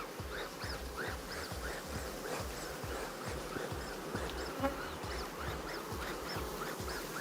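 Honeybees hum around an opened hive as a beekeeper pries apart top bars the bees have glued down firmly. A dense, close buzzing swarm fills the whole stretch, with individual bees droning past and no talking.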